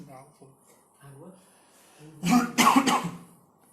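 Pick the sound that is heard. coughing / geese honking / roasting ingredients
coughing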